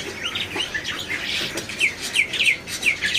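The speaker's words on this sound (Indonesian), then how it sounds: "Di atas ini ada burung jalak putih yang gacor dor ya." Bright, chattering song of a black-winged starling with repeated whistled chirps and trills, fairly close, over a faint background hum; no voices.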